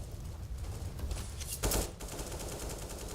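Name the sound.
automatic gunfire in the video game Counter-Strike, de_cobblestone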